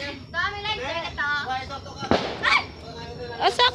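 New Year fireworks crack and pop in a few sharp bursts, partly hidden overhead, while people nearby talk and shout over the celebration.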